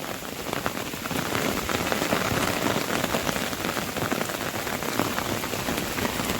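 Sudden stormy rain pours onto the ground in the Konkan countryside, a dense, even hiss of drops that holds steady and fairly loud throughout with no talking.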